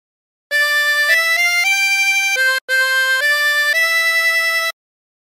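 A 16-hole tremolo harmonica plays the melody of Hark the Herald Angels Sing, sustained wavering reedy notes stepping through the tune in two phrases with a brief breath gap, clear and alone.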